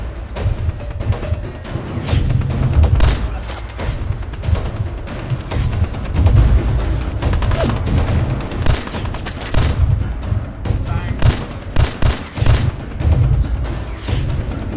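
Rapid gunfire in the video game Fallout 4, set at the Corvega factory in Lexington, with dense bursts of sharp, loud shots and booming impacts continuing throughout.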